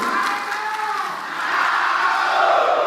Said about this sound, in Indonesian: kita berikan tepuk tangan untuk kedua Cawagup